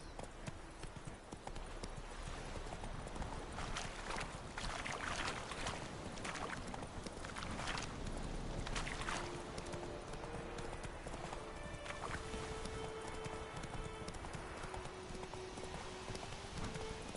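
A horse gallops in The Witcher 3: steady, rapid clip-clop of hooves at close range, continuing throughout over a soft ambient background.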